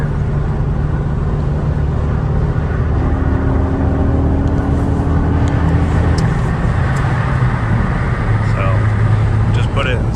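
A 2013 Ford Focus ST3 cruises in sixth gear at about 82 mph on a busy freeway, its engine and road noise forming a loud, steady drone that holds unbroken throughout.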